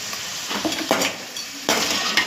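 Green chilies and ginger-garlic paste fry in a pan for village-style crab gravy: close, loud scraping stirs and clinks against the pot over a steady sizzle, with no one talking.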